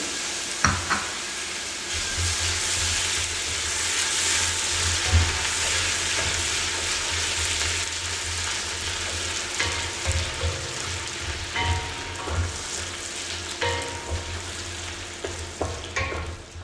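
Garlic and diced onion sizzle steadily in a hot pan as the base for a risotto, a loud continuous crackle with occasional sharper pops and scraping stir sounds toward the end.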